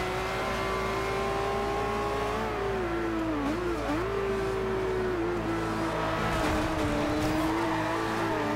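Lamborghini Aventador engine in Forza Horizon 2 revving hard and accelerating, a loud steady drone that climbs in pitch and briefly dips at shifts, with faint tire squeal, held close throughout with no talking.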